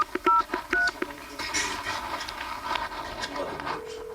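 A telephone keypad dials a call to a son in America: a quick run of short, distinct beeping tones near the start, followed by faint room noise.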